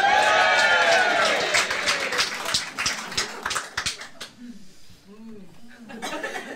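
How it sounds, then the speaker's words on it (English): A studio audience at a quiz game gives loud cheering and clapping that builds and then fades into scattered chuckles, with a host talking over the end. "give me a cheer now"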